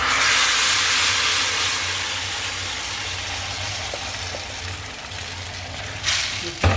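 Boiled water is poured into a pan of mushroom masala with a loud, steady hissing rush that slowly eases, ending with a few clatters and bumps.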